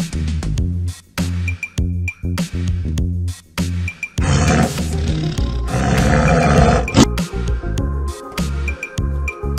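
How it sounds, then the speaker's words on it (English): Roar from a toy tiger, a loud electronic growling roar against a busy musical background with steady beat, the roar swelling through the middle of the clip. "This is tiger animal."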